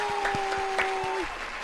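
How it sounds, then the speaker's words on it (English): Applause from a stream audience, steady broadband clapping over a sustained tone and faint rhythmic low thumps, continuing evenly for the whole stretch. "Round of applause for you guys for being here."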